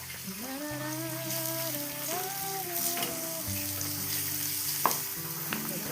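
Onion, ginger and garlic fry in a pan for a coastal-style mushroom curry, giving a steady close sizzle with occasional stirring scrapes and small pops, heard alone without talk.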